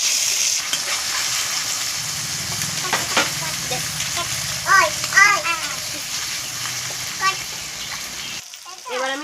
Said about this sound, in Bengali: আর দেবো আমি 4-5টা কাজু। এটাকে আমি কিছুক্ষণ ভেজে নেব।